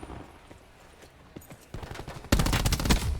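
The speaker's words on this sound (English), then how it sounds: "Another nice shot from Octane with the Tempest." Tempest rifle fire in Call of Duty during a competitive esports match: faint scattered shots, then a sudden loud burst of rapid gunfire in the final second, with little or no talk over it.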